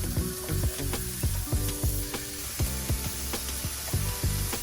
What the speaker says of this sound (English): throw in this thinly skinny sliced pork belly along with some sesame